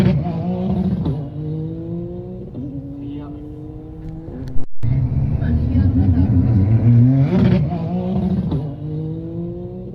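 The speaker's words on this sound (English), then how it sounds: "So there you have it, the new EG33 and the new Subaru number 61 BRZ" A Subaru number 61 BRZ GT300 race car with an EG33 flat-six revs hard on a track in Japan, repeated rising pulls through gears, loud and close, building to a sustained roar with a brief break midway.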